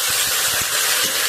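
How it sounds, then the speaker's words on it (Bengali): Bottle gourd pieces dropped into a hot pan with prawns, giving a loud, steady broadband sizzle with a few soft clunks, close up and without talk. "তারপরে আমি দেখুন লাউ দিয়ে দিচ্ছি"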